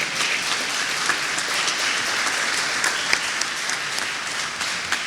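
Applause for the students at a CoNETU student panel, a dense, steady wash of many hands clapping throughout, fairly loud and continuous with no one speaking.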